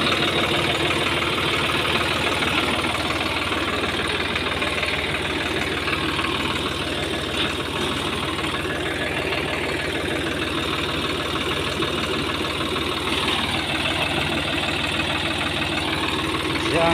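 Two tractors stand idling together, their engines producing a steady, dense, knocking rumble that stays loud and unbroken throughout, with no clear talk over it.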